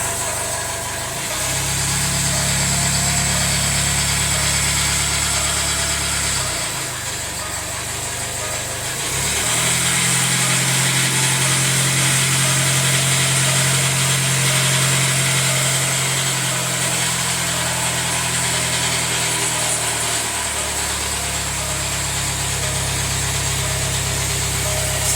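A rebuilt 204DTD diesel engine in a Jaguar F-Pace idles roughly, a steady close mechanical drone with a clattering, ratchet-like tick, its low hum shifting pitch a few times over the run, with no talking.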